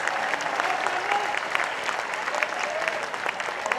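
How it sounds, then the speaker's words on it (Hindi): An audience applauds during a Hindi poetry recital in Bhopal, a steady, moderately loud wash of many hands clapping that sounds somewhat distant and roomy and holds evenly throughout. "जिंदा जिंदा आदमियों की तरह तालियां बजाए पूरा सदन मेरे समर्थन"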